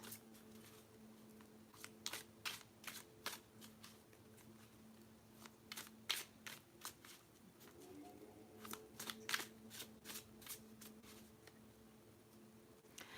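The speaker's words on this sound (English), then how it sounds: "while I'm shuffling the cards" Tarot cards being shuffled by hand, a run of quick crisp riffles and soft flicks close up, quiet and irregular, with brief pauses between bursts.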